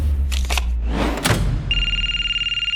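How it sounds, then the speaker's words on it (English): A telephone bell rings loudly and steadily near the end, a sustained electronic trill following a few brief rustles and knocks, with no talking. "The phone started ringing, and not in a good way."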